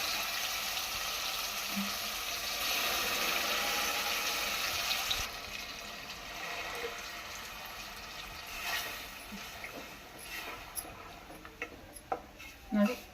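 A steady sizzle of tomatoes and ground masala frying in a pan for fish sambar fills the first half, then fades to quieter crackles with occasional clinks.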